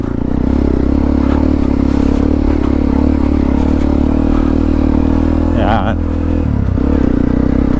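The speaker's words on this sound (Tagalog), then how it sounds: "Ayan, segunda ko na ito may pagkarats, pero kaya naman. Kaya ng motor natin ng segunda." A motorcycle climbing a rough mountain road in Kibungan, Benguet, in second gear, its engine droning loudly and steadily with some clatter over the uneven surface, while someone talks over it.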